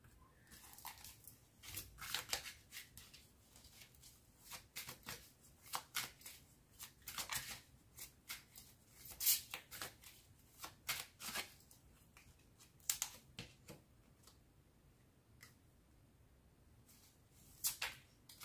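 Tarot cards are shuffled by hand in quiet, irregular bursts of crisp riffling and slapping, each flurry separated by short pauses, with no voices.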